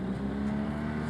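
A UTV engine slowing down during a trail ride near Arbor Vitae and Lake Tomahawk, Wisconsin, holds a steady close drone with a slight fall in pitch, no speech over it.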